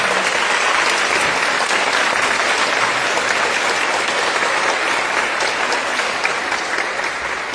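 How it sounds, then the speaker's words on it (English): A room full of people at a women's leadership event gives the organizing committee a round of applause, thick, even clapping that holds at a steady loudness throughout. "Let's give them a round of applause."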